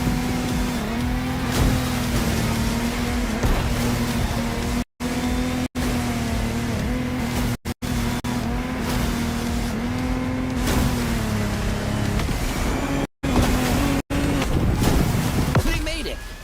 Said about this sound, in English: our challenger handled that gorgeous Lamborghini Technomar like a true sailor